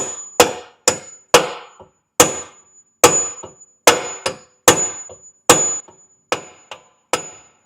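Repeated heavy hammer blows on metal, about a dozen evenly spaced ringing strikes, each with a bright metallic ping and a short decay, close and loud with no talking.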